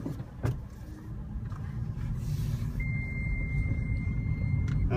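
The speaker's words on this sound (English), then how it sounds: "the only noise you can hear there is the beeping to tell me to put my seatbelt on." A steady high electronic seatbelt-reminder beep chimes inside a Smart ForTwo electric drive car on a hill, moderately loud over a low, rumbling cabin and road noise with no talk.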